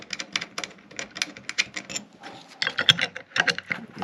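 An included Allen wrench tightens two flange head bolts on a Stealth HEI distributor, producing a close, fairly quiet run of rapid, irregular clicking and tapping, unaccompanied by speech.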